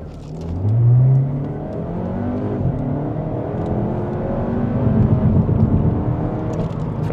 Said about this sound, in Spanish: Ahí por alguna razón se activó el launch control y patinó mucho las ruedas